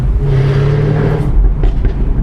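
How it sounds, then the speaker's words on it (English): A sports car's loud, rumbling straight-pipe exhaust burbling and revving close by, deep and throaty with a brief rise in pitch. "sends the exhaust gases around straight pipes rather than through the baffles"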